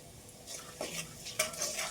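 Ginger frying in oil with turmeric and Kashmiri chili powder, a low steady sizzle with soft stirring scrapes and a couple of sharper clinks of a utensil against the pan.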